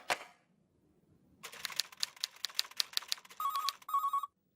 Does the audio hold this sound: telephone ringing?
yes